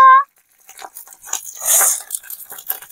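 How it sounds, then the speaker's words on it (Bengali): Hot oil crackles and spits sporadically as neem leaves fry in it, the pops loud and near with a denser burst in the middle, after a brief tone at the very start. "বন্ধুরা খুব জোরেই তেল ছিটাচ্ছে, আমার হাতেও লাগছে।"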